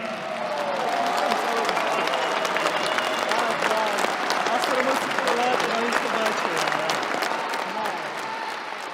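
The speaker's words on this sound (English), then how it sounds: "Everybody please stand up on your feet and give a round of applause to Genadi Kvikvinia." A crowd at an arm wrestling event, Devon Larratt versus Genadi Kvikvinia, gives Kvikvinia a loud, sustained standing ovation with cheering and crowd noise, while people talk over it.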